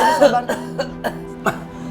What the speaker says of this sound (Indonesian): Papa batuknya nggak berhenti, tolong Mas.